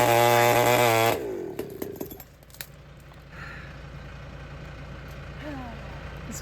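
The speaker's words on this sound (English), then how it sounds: "This would be the 3rd time the saw's gotten stuck today." A chainsaw running loud and steady while clearing trees and weeds for a ditch, then cutting out abruptly about a second in, leaving low outdoor background noise and faint distant engine sounds.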